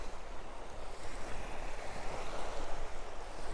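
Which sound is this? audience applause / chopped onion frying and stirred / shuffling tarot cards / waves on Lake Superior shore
waves on Lake Superior shore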